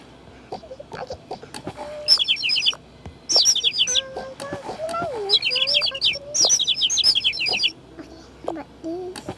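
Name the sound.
bird chirping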